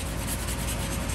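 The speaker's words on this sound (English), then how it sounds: "Just taking an acid brush and brushing it on." A stiff acid brush scrubs rust remover onto the steel face of an old Hay Budden blacksmith anvil, giving a continuous close, dry rubbing and bristle scratch with no voices.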